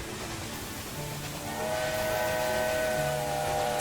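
A train in the railway game Railway Empire 2 rumbles along steadily, its horn sounding held tones partway through, with no voices over it.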